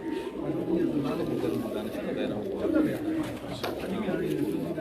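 Pigeons coo on a rooftop in Khairpur, with soft repeated throaty calls mixed with bird chatter, someone talking over them throughout.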